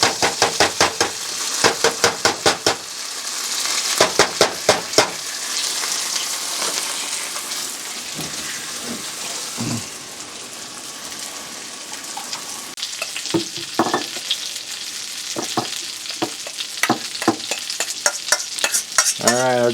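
Pinto beans heating in a pan on a stovetop, a soft ongoing sizzle punctuated by repeated scraping and clattering as a utensil stirs and knocks the pan, fairly close and without speech.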